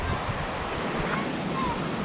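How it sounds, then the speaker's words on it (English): Strong wind gusting by the sea on a headwind ride along the coast, a steady broadband roar of wind and surf with microphone buffeting throughout, fairly loud and continuous. "Man, I tell that wind is strong."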